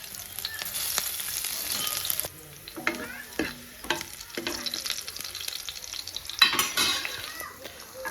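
Green chilies sizzle and crackle in hot oil while Maggi is being cooked, a steady close frying hiss broken by a few sharp stirring scrapes and bursts of spitting, with no talking.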